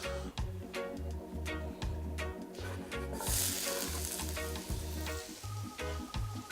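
Onions dropped into a big hot pan on high heat sizzle loudly and steadily, with a wooden spoon stirring and scraping in a clear rhythm beneath.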